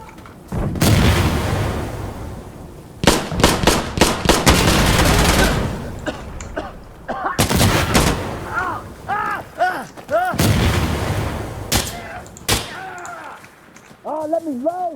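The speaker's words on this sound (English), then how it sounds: "Explosive artillery incoming." Loud, repeated artillery explosions and gunfire boom through a battle in the video game Insurgency Sandstorm, with heavy blasts at irregular intervals and voices calling out between them.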